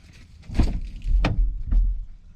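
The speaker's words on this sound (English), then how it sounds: "open up the back door" A pickup truck's rear door is handled and opened with a few sharp clicks and thuds amid soft rustling. There are two distinct latch-like impacts and a fainter third, all close by.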